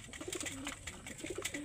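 Soft, low pigeon coos repeat in a gentle rhythm against a steady, noisy background, fairly close but quiet.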